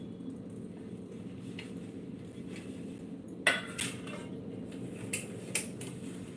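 Dishes and utensils are washed by hand, with quiet scrubbing underneath. Sharp clinks and knocks of metal and crockery come a few at a time, close and intermittent.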